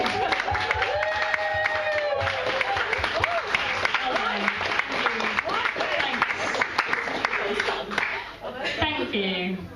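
A live comedy audience claps and applauds for NHS workers, a sustained patter of many hands mixed with crowd murmur and cheering, while people talk and call out over the top throughout.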